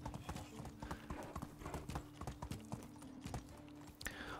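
Horse hooves galloping in the game Medieval Dynasty, a fast rhythmic clip-clop of hoofbeats on the ground, steady and close, with faint game ambience around it.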